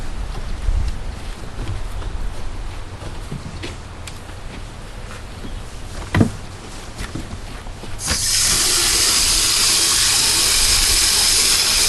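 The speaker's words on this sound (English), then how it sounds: "Let me grab my hose." A garden hose starts running water into a bucket, a steady loud hissing rush that begins partway through after quieter outdoor handling noises and a single knock.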